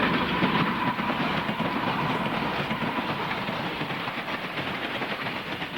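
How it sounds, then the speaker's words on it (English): An eastbound Southern Pacific local freight led by two AC4400 locomotives with only three cars rolls by on the coast line near Santa Margarita, a loud continuous rumble with rhythmic wheel clatter on the rails, slowly easing in volume. "This eastbound Guadalupe local from Santa Margarita and its interchange with the Santa Maria Valley Railroad is very overpowered with 2 AC 4400s and only 3 cars"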